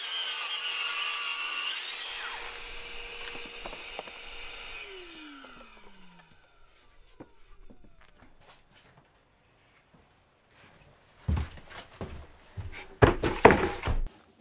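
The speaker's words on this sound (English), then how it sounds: "what I think I can do is cut from corner to corner on the diagonal" A saw cuts diagonally through a wooden offcut to make braces for a dust cyclone cart, a continuous rasping drone that slows and fades, followed after a pause by loud close knocks and thuds of wood being handled; no speech.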